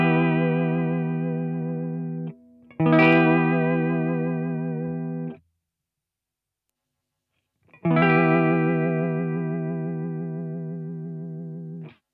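Electric guitar through a Univibe vibrato effect, sustained chords warbling in pitch like a tremolo arm being worked, in two long held strums separated by a brief gap and silence.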